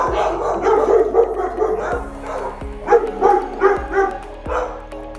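Dogs in an animal shelter yard bark and yip repeatedly, close and loud, in short bursts with a few whimpers between them, and a person speaks faintly underneath.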